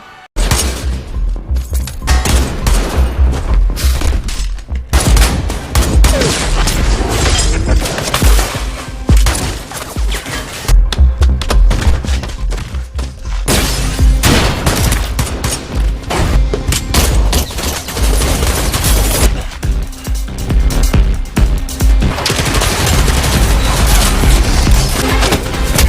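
Gunfire in a film battle scene about an international fugitive, with dense, continuous volleys of shots, shattering and heavy impacts over a loud dramatic soundtrack, running for nearly half a minute.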